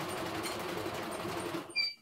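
A CNY embroidery machine with a fault hums and rattles steadily at close range, then cuts off abruptly near the end, leaving a few faint high tones and clicks.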